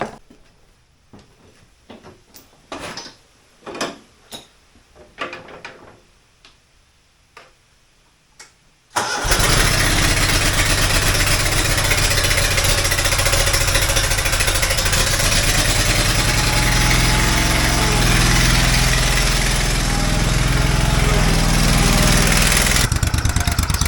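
A Ferris zero-turn lawn mower with a no-start electrical fault rumbles to life partway through, after quiet ticking and clicks, then runs at a loud, steady, close-up roar until the end.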